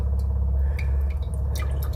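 Water from an Itehil water purifier trickling and dripping slowly and steadily at close range, with soft liquid splashes over a low, continuous hum.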